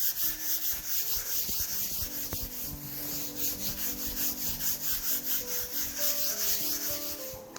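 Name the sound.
sanding wood slab top surface with 600-grit sandpaper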